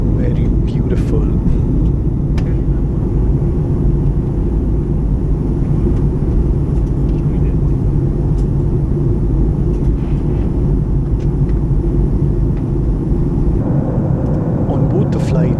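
An Akasa Air Boeing 737 MAX cabin just after a night takeoff from Mumbai fills with a loud, constant low roar of engines and airflow, with a few faint clicks and rustles on top.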